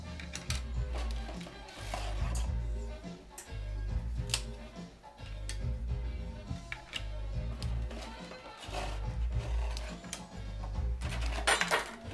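No-boil lasagna noodles set down one by one into a baking pan, giving a series of close, dull taps and light clicks against the dish over a steady low background hum.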